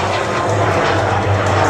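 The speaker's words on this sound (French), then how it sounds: "Alors, il faut que l'avion s'envole" Model airplane engine revving steadily at takeoff during a model aircraft meeting at Sélestat, a loud, continuous near drone with a slight pitch wobble, no voices over it.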